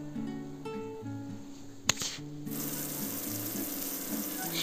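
Fish fillets sizzling in a hot pan on a medium gas flame as they are flipped to the second side, a steady close frying hiss with a sharp clank of the turn midway.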